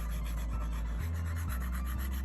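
A stylus rubs back and forth against a tablet screen, erasing in Goodnotes. The scratchy friction is close, steady and continuous over a couple of seconds.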